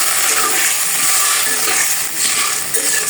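Potatoes frying in a hot pan with salt hiss and sizzle loudly as water is added, a dense bright crackle that stays steady with slight swells, close by and free of talk.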